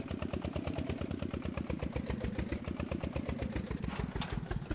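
Tractor engine idling in the farming game Professional Farmer 2014, a loud steady rapid chug with regular even pulses, running alone without talk.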